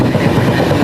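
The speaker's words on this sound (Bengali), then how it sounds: "ট্রেনের সিচুয়েশান লাইক এইরকম, নয়েজ খুব, ট্রেনের আওয়াজ যা আসছে" A passenger train on the Howrah to Bangalore run, heard from inside a carriage as a loud, steady rumbling roar of wheels on rails, close and continuous, with no voices.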